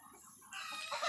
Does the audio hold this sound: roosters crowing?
yes